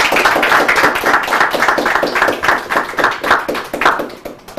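Audience applause for church teams competing in a Bible contest, a loud, close, rhythmic patter of many hands clapping together that fades toward the end.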